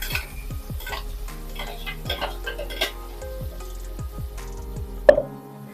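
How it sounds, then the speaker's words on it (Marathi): Ground Malvani masala paste is stirred in oil over low heat, with repeated spoon scrapes and taps against the pan over a faint sizzle and a louder clank near the end; no one speaks. "बारीक गॅसवरतीच आपल्याला हा मसाला तेलामध्ये चांगला दोन ते तीन मिनिटासाठी परतून घ्यायचा आहे"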